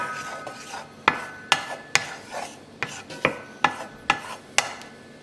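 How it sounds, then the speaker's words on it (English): Butter schmaltz heating in a hot pan is stirred with a utensil, giving a steady series of about a dozen sharp scraping clicks and taps against the pan, close and fairly quiet, over a faint background hiss. "I'm going to add some butter. Butter schmaltz. Stir it around."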